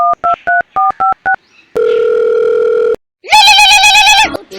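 A telephone keypad beeps through a quick run of about nine dialing tones, then a steady dial tone holds for about a second. After a short pause, a loud warbling ring tone follows.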